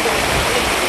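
Floodwater from heavy rains in Kamareddy district rushes past in a brief burst, a loud, dense, steady roar of flowing water heard up close.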